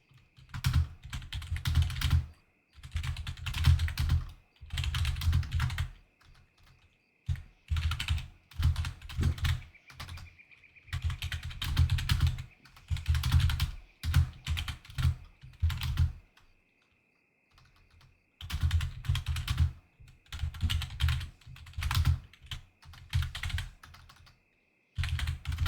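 Bursts of typing on a computer keyboard, close and fairly loud, in rapid clattering runs separated by short pauses, with no talk.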